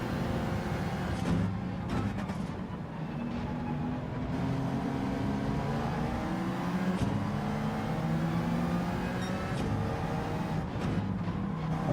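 Ferrari race car engine from a racing game at Brands Hatch, a steady loud drone with rising and falling pitch sweeps as it accelerates and shifts, continuous throughout with other cars mixed in.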